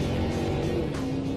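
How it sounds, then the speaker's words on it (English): A production Camaro drives fast on the repaved Daytona track, a steady engine hum and road rumble heard from inside the car, brief and moderately loud. "We just went through that turn at 105 miles per hour in a production Camaro"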